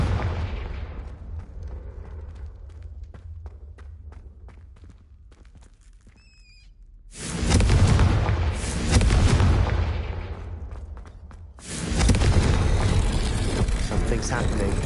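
Confringo blasting spell explosions in the video game Hogwarts Legacy, two loud booming blasts a few seconds apart with rumbling tails, following a stretch of quieter game sounds and voices.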